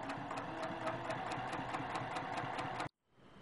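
A sewing machine stitches quilt binding in a fast, steady, close rhythmic whir, then stops abruptly near the end.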